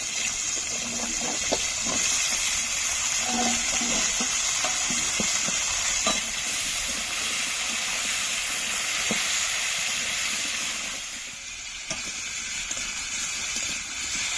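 Papaya pieces tossed into potatoes already frying in oil in a pan for a fish curry, a loud continuous sizzle and hiss with stirring scrapes throughout, no talking.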